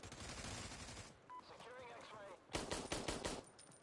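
Rapid bursts of automatic gunfire from the Americas Army Proving Grounds shooter game on PS4, dense volleys at the start and again near the end, with quieter in-game sounds between.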